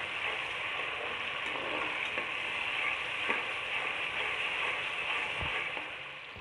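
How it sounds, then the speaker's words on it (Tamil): Ginger and garlic frying in oil for a mutton kurma, a steady broadband sizzle that holds evenly throughout at moderate level, with occasional faint pops and no voices. "இஞ்சி பூண்டு பச்சை வாசனை போகிற வரைக்கும் எண்ணெயில் கொஞ்சம் நல்லா ஃப்ரை பண்ணுங்கள்"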